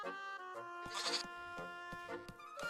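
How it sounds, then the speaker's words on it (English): Goat bleating in the video game Little Goody Two Shoes, a few quavering, nasal bleats in quick succession, clear and close but fairly quiet, with no speech. "I hear the frickin' goat."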